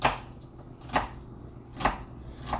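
Knife chopping small onions on a cutting board, four separate firm thunks spaced roughly a second apart, close and fairly quiet, with no talking.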